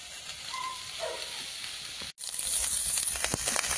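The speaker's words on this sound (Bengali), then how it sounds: "সিদ্ধ কাঁকড়াগুলো এবার ভেজে নিচ্ছি" Boiled crabs sizzle loudly in a hot pan of oil with onion and green chilli, a steady close frying hiss that briefly cuts out and then returns stronger and more crackling.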